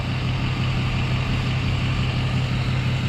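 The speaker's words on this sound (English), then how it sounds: "Man, that truck is loud. I'm gonna wait behind him. He's got a big exhaust too." A loud Ford F-250 pickup with a big exhaust idles at a traffic light, giving a steady, close, deep engine rumble that holds evenly throughout with no talk.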